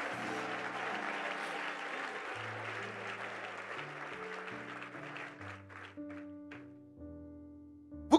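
Sustained audience applause rings through a church during a sermon, dense clapping under held music tones and organ-like chords, thinning toward the end before a sharp final hit.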